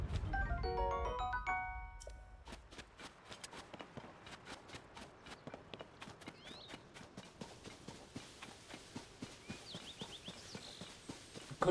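Horse hooves clip-clop in Zelda: Tears of the Kingdom, a steady run of sharp, evenly spaced hoofbeats after a brief musical chime at the start, with a few faint game cues in between.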